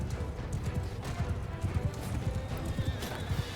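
Horses galloping in the medieval battle game Mount & Blade II Bannerlord: rapid, overlapping hoofbeats pound steadily throughout with a whinny mixed in, a cavalry charge heard up close without talk.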